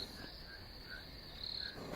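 Crickets chirp steadily at night in a Bengali horror cartoon, a thin continuous trill with pulsing chirps over a low background hum, moderately faint and with no talk.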